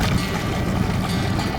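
A sailboat motor-sails down the Baptiste Colette Bayou, with a loud, steady rush of wind and water and a low engine rumble underneath, continuous throughout.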